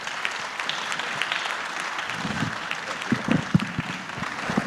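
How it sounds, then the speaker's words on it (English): An audience applauds panelists, including a state governor, at a formal government electricity policy presentation, a broad steady wash of clapping hands with a few sharper claps standing out toward the end. "Let us give them a good applause."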